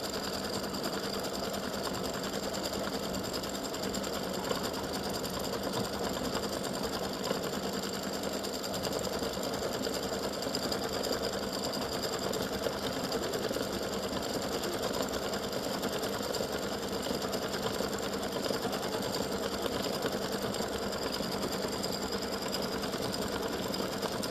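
An embroidery machine stitches a yellow egg design onto a freestanding lace Easter gnome, a constant rapid needle chatter and motor hum running unbroken and steady throughout, close and alone.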